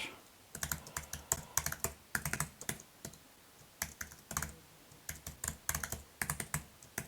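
Irregular bursts of key clicks on a computer keyboard as a password is typed for a Windows server sign-in, close and fairly quiet, with short pauses between runs of keystrokes and no talking.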